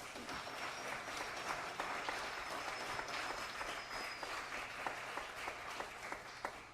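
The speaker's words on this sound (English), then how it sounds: "But please, a round of applause for a very talented musician," Applause from a concert audience for a musician at a jazz quartet performance: continuous, even clapping from a sizable crowd lasting nearly seven seconds, moderately distant and steady, with a faint high tone running through part of it.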